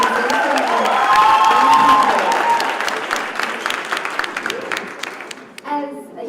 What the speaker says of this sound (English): can we actually please give her a round of applause?